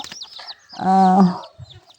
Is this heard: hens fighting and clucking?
yes